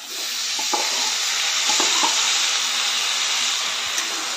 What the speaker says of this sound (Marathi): आता आपण धुवून घेतलेले वरी यामध्ये घालूया।